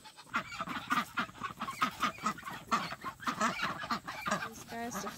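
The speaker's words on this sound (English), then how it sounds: "I'm gonna let the ducks out." Domestic ducks let out of their pen honk and quack in a busy, close chorus of repeated calls, with a faint voice underneath.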